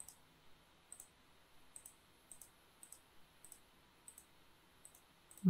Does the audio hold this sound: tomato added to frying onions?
no